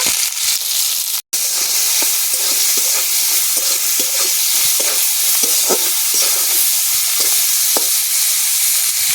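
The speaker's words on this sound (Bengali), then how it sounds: "চিংড়ি মাছ ভেজে নেব।" Prawns frying in white oil with salt and turmeric sizzle continuously close by while being stirred, with spatula scrapes and pops and one brief dropout early on.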